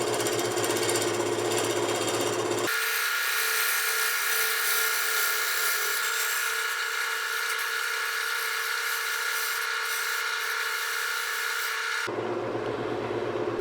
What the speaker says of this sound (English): with a great big 3/4 inch Carter & Son bowl gouge with a gentle touch, you can produce those fine hair-like shavings.